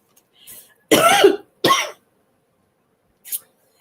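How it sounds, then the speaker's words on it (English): Two sharp coughs close by from a lingering cough after an illness, a brief quiet breath before them and a faint short exhale afterward, with silence between. "I still have this lingering cough that just doesn't want to go away"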